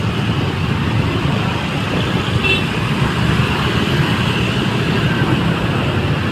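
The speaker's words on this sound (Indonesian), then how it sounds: "Nah ini sebelah kiri saya ini cukup banyak sekali ya bus yang keluar ini ya" Heavy evening traffic jams the road by Bungurasi terminal as many buses pull out, with a dense, steady rumble of engines, road noise and a faint horn toot nearby.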